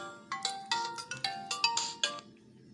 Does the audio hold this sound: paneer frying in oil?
no